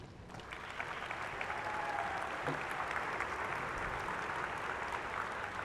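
A graduating class at a university commencement applauds steadily, a dense, even wash of clapping from a large crowd that holds at a constant level throughout.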